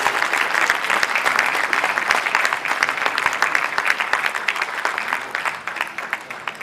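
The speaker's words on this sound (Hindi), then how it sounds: "Please put your hands together" A crowd at a gems and jewellery trade federation ceremony claps steadily and loudly, a dense continuous applause that holds for several seconds before easing slightly at the end.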